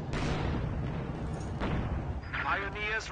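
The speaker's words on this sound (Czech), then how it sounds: "Jo, tam se střílí zase" Gunfire and artillery from the World War II strategy game Company of Heroes 2: rumbling blasts and heavy thuds at moderate distance, with a sweeping wavering tone near the end, while players talk over it.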